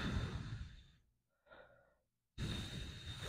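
Slow, deep breaths during a yoga-style Cossack stretch: a long, close exhale that fades out, a brief softer inhale after a pause, then another strong breath at the end. No talking.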